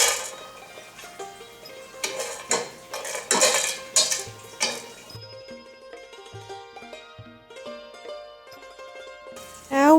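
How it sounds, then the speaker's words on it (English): Four whole spices roasted in a pan for Thai five-spiced pork and eggs, heard as clattering metal knocks, scrapes and rattles from pan and utensils in irregular bursts, with quieter clinks and gaps toward the end. "Now we're gonna roast all the left 4 spices."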